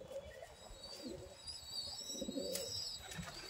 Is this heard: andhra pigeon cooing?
yes